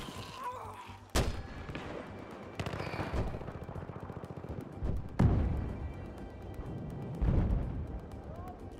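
Gunfire and explosive thuds from an online Team Deathmatch round of Battlefield 4: China Rising on the Dragon Pass map, with loud bursts and heavy booms repeating through the mix while a voice talks over the action.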